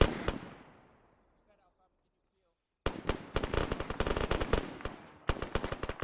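A grenade blast in Arma 3 rolls off into a fading tail and near silence, then dense bursts of rapid automatic gunfire and sharp shots crackle loudly for several seconds.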